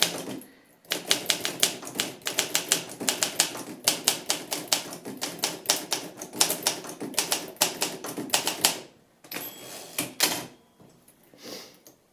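Keys striking on an Olympia SM7 manual typewriter, a fast run of crisp clacks for several seconds, then a pause and a few more strokes with carriage sounds, close and clear.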